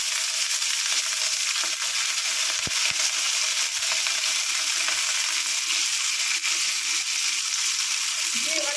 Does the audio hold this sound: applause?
no